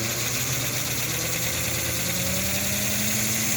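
Small DC permanent magnet motor running steadily on test at about 3 volts, drawing under an amp, fitted without a shim; a continuous whirring hum with a high tonal whine, even and close, no talk.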